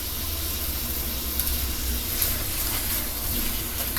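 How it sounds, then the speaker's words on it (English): Apples cooking in butter in a pan over medium-low heat give off a steady, even sizzle and hiss that continues without pause. "now we're just going to cook these apples in the butter"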